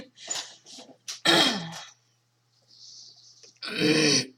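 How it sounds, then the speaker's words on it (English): Several harsh throat clearings and coughs, close and loud, in separate bursts with brief quiet gaps and a faint hiss between. "I've been doing a whole bunch of coughing and hooing and hawing"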